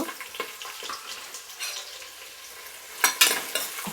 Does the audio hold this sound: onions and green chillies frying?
yes